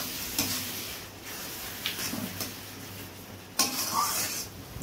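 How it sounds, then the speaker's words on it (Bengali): Spice paste for Bengali katla fish kalia fries and gets stirred in a pan, producing a soft sizzle with intermittent scraping and clinking strokes of the utensil, close by, two sharper scrapes standing out, no talking. "মশলাটা ভালো করে কষিয়ে নেওয়া হচ্ছে"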